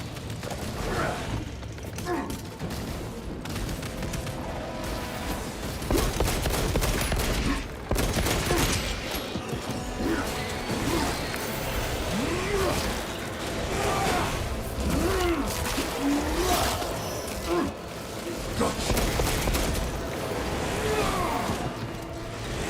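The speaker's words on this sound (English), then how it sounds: "There they are. The orbital guns." Orbital guns fire in the Space Marine II video game, a relentless barrage of heavy blasts and crashing impacts layered with mechanical clatter, loud and sustained over twenty seconds with repeated sharp bursts.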